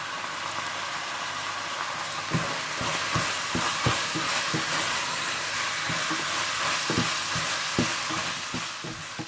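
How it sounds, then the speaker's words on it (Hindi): Minced meat frying in a pan with crushed black pepper, crushed red chili, salt and a chicken cube, a steady loud sizzle broken by repeated sharp scraping strokes of a spatula. "कीमा भूनने के दौरान ही आप इसमें कुटी हुई काली मिर्चें, कुटी हुई लाल मिर्चें, नमक और चिकन क्यूब डालकर इसे अच्छी तरह से भून लें।"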